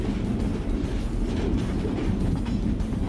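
A heavy coal train cresting a mountain summit rolls past with a dense, continuous rumble of wheels on rail and faint clatter, loud and close with no voices.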